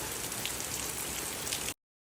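Steady summer or fall rain hisses down on a surface in a dense, even wash of drops. It holds loud and constant, then cuts off abruptly to silence.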